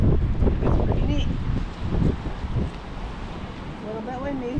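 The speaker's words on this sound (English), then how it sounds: "A little bit windy" Wind blowing by an old disused pier turned recreational area on Kauai, a steady rough buffeting with surf-like rumble throughout, while people talk over it.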